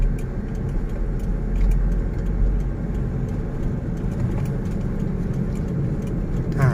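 Car engine in second gear, accelerating gently during a driving lesson, a steady mid-pitched hum with road noise heard from inside the cabin, without talk.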